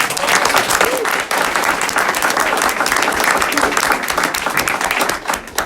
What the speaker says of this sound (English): So let's give them a clap.